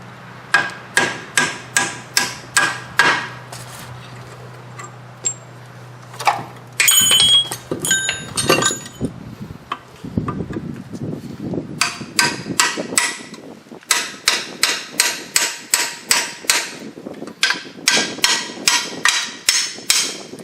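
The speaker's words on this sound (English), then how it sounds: "We're going to drive this bolt out, spread the pinch, take the rod off." Hammer driving a bolt out of a rear suspension rod on a Ford Explorer, repeated sharp metallic strikes in rapid rhythmic bursts, loud and close, with a pause of clanking in between.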